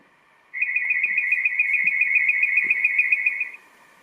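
A single electronic chirping trill from a Bluetooth Star Trek original series communicator toy, rapid and warbling, lasting about three seconds at steady volume before cutting off cleanly.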